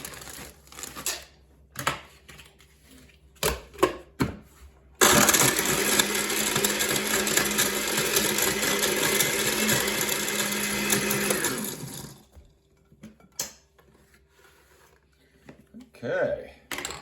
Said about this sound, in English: Throw a little bit in my blender